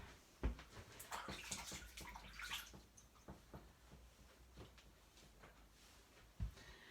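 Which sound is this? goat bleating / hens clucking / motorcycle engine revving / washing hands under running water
washing hands under running water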